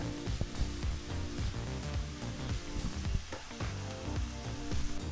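Mushroom fried rice sizzling on a high flame while being mixed, a steady dense hiss with scraping and clanking of the utensil against the pan, close and continuous without talk.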